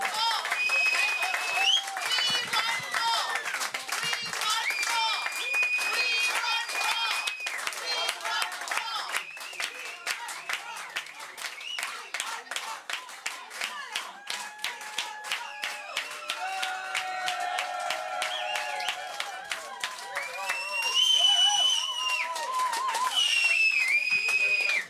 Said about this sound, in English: And give a round of applause to this man over here, Axel, for putting this all together.